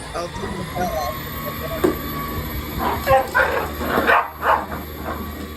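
A dog barks, yips and growls at a running vacuum cleaner in short bursts over its steady mechanical hum, with a few louder, sharper barks near the end.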